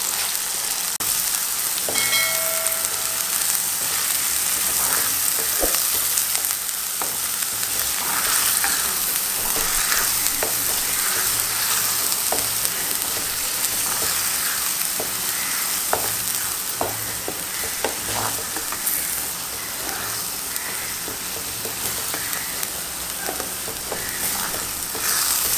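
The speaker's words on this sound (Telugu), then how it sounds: "ఉల్లిపాయ మసాలా వేస్తున్నాను చూడండి అమ్మా" Onion masala frying in oil and being stirred in a pan for a sea fish curry, a constant crackling sizzle with scattered spatula scrapes and clinks, long and unbroken, without speech.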